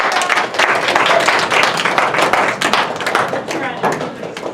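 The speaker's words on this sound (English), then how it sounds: "we clapped for you, Austin" An audience at an exercise review session claps: a steady patter of many hands for several seconds, fairly close, with voices talking over it.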